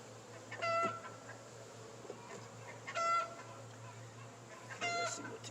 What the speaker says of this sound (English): Chickens over there must just lay the egg.